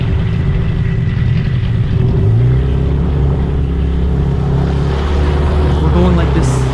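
A boat motor chugs steadily in a narrow forest channel, a loud, close, low rumble that continues throughout with slight shifts in pitch as it works, no break in the engine noise.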